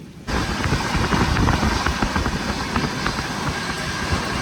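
A moving train travelling through Madhya Pradesh rumbles steadily after a sudden onset, low wheel roar with rhythmic clatter and rushing noise.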